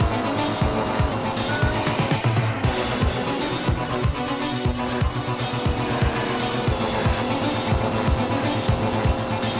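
Racing engine roar and repeated tire squeals from a car in the 2004 PC game Knight Rider 2: The Game, loud and continuous with rhythmic thumps, no talking.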